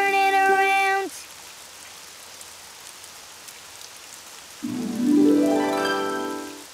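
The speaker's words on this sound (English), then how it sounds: "It's raining outside." Rain falling outside in a children's cartoon scene, a steady soft wash of drizzle in the gap between stretches of sung or spoken character voices at the start and end.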